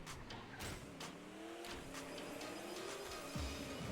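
A small Charger car fitted with drift tyres racing in the Table Top Racing video game, its engine a steady whining drone that rises in pitch as it accelerates, with light clicks and a brief tyre squeal near the end.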